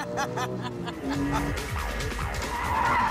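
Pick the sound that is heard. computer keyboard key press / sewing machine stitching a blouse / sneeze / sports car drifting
sports car drifting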